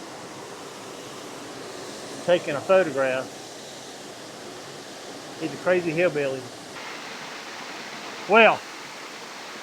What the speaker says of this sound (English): we're here still shooting at this waterfall